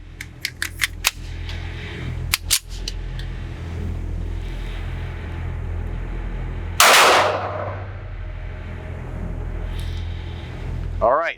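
Gunshots from a Rock Island Armory 1911A1 TCM9R pistol at an outdoor range, a quick cluster of sharp cracks near the start, two more close together, then a single loud report with long ringing decay, over steady background rumble.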